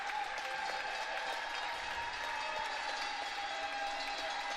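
A crowd at the Olympic Oval speed skating venue in Calgary keeps up a continuous, fairly distant roar of applause and cheering, with a steady metallic jangle of cowbells running through it.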